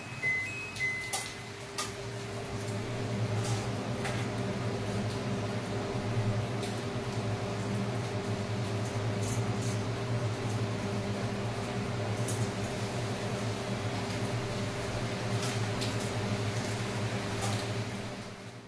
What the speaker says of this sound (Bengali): চিমনিটা চালালে আর শুনতে পাবে না